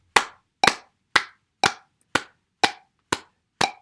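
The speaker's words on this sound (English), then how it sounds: "So I've got one clap in between the ticks." Hands clap eight times at a steady 120 beats per minute, one clap between each metronome tick. The claps are sharp, close and evenly spaced, with nothing else heard.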